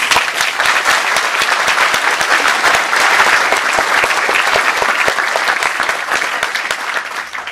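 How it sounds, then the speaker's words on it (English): A large crowd applauds loudly and steadily at an engineering ring ceremony, dense clapping sustained throughout before tapering slightly at the end. "join me in giving these folks a huge round of applause"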